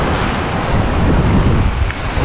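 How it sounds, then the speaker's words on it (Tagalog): Strong typhoon wind gusting beside a swollen river at a hanging bridge, a loud, close roar of wind buffeting the microphone with rushing water blended underneath, continuous and unbroken. "Medyo hangin lang yung malakas ngayon dito."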